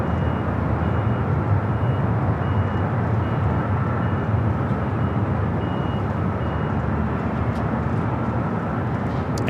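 A Singapore Airlines Boeing 777-300ER bound for Tokyo Narita runs its engines while pushing back at Los Angeles airport, making a loud, steady roar that holds unbroken throughout.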